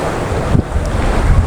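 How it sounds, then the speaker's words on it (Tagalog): Strong wind buffets the microphone beside Taal Lake, a steady loud rumbling roar with gusts. Faint lapping water sits underneath and no one speaks. "Kaya lang sobrang lakas ng hangin."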